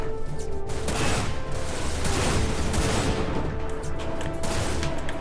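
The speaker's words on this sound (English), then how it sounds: "Oh, I'm shooting it and it's not really doing anything." Dense video game gunfire, a continuous loud clatter of rapid shots with crashing bursts layered together, sustained throughout without speech.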